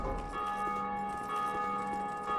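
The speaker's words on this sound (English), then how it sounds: "when you pull this lever, you'll ring one of the bells" A single bell in the Dark Souls 2 belfry tolls after a lever is pulled, its steady ringing tone sustained with a long resonant hum throughout, moderately loud and without any speech.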